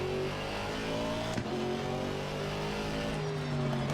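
A Mercedes GT4 race car in Assetto Corsa Competizione drones steadily, its engine holding several shifting tones as it pulls along, loud and continuous with no talking.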